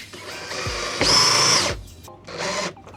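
Screws being driven by a power drill while fitting a front lip onto a Nissan 370Z, heard as two loud, close whirring bursts of about half a second each, with a short gap between them.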